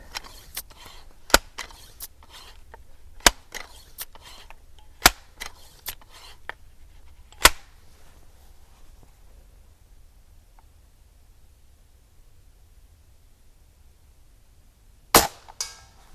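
Benjamin 397 and Sheridan Blue Streak pump air guns firing at 50 yards outdoors, sharp isolated cracks spaced a second or two apart, several in the first half, then a quiet stretch before one last loud shot.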